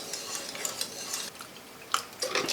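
A whisk scrapes and swishes through thick sausage gravy in a pan, soft irregular stirring strokes close by with a couple of sharper metal clicks, faint sizzling underneath.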